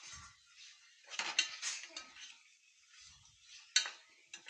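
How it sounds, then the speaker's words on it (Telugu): Broad bean pieces and tomato stirred in a metal pan, giving scattered clinks and scrapes of a spoon against the pan, with a few louder knocks, fairly faint and close with no talking. "చిక్కుడుకాయ ముక్కలు వేసేసుకోవాలి ఇవన్నీ కలిపి బాగా కలుపుకోవాలి"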